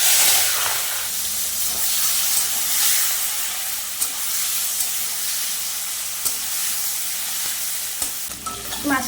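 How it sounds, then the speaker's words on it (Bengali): Prawns frying in a wok of hot oil with cumin seeds, a steady loud sizzle and hiss running throughout, with occasional stirring scrapes and bubbling pops near the end. "এবার মাছটা ভেজে নেব।"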